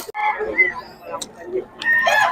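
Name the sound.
gamefowl rooster, Sweater cross breed, at a rooster farm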